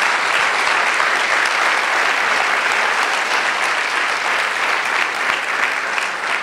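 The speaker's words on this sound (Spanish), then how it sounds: "¿Cuántos le regalan un aplauso al Señor de la gloria?" Church congregation applauding together, a dense, steady wash of clapping that holds at full strength throughout with no pauses or talk.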